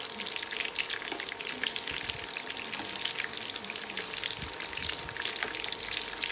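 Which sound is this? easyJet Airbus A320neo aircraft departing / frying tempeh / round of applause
frying tempeh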